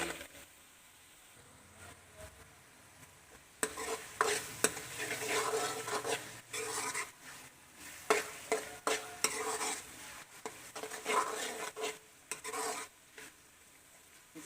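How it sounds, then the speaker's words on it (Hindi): Minced meat stir-fries in spiced masala, quiet at first, then a close sizzle with repeated spatula scraping and stirring strokes in uneven bursts. "मैं इसमें कीमा ऐड कर देती हूँ। इसकी अच्छे से भुनाई करनी है।"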